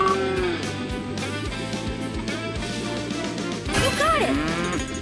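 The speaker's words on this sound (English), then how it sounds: "Cow spotted." A cartoon cow moos repeatedly in a farm search scene, the long lowing calls sitting over busy background music and effects, with a louder, rising moo near the end.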